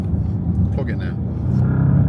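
A Bentley Continental GT hybrid accelerates hard, its engine rumbling loud and close as the revs climb and swell toward the end, with a voice speaking over it.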